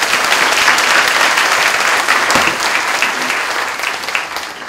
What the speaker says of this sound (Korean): 힘내라고 좀 격려의 박수를 좀 부탁드리겠습니다